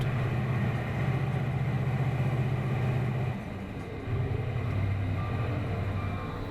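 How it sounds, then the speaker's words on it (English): An 800-horsepower loader tractor works chalk with a big shovel, its heavy diesel engine droning steadily and loudly nearby, briefly easing off mid-way before pulling again. "the loader tractor sometimes just crushes the chalk with the big shovel"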